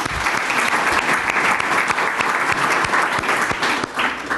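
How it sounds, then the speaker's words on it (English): An outdoor audience at a garden sculpture event claps in sustained, dense applause, close and loud from start to end. "Let's give her a round of applause."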